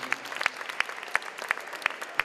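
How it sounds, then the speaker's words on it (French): At a dance awards ceremony, a few audience members clap in a sparse, roughly regular rhythm, each sharp clap standing out against a quiet room rather than merging into full applause. "On peut l'applaudir, Guylaine,"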